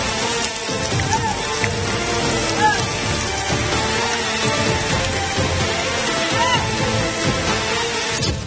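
The year's first rain falls in Chikkamagaluru in Karnataka's hilly Malnad region, a dense, continuous hiss of rainfall pattering on surfaces, steady and fairly loud throughout.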